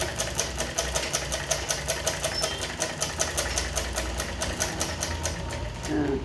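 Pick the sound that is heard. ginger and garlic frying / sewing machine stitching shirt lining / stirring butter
sewing machine stitching shirt lining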